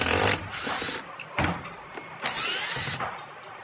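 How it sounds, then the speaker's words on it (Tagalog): A power drill backs four screws out of a panel on a Panasonic Eco Aquabeat 7kg washing machine, with several short whirring bursts separated by brief pauses and clicks, loud and close. "Tapos tanggalin natin yung apat na screw niya"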